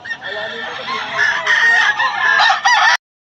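Roosters crow loudly and close by at Bocaue market, several drawn-out calls overlapping for about three seconds, with a little clucking among them.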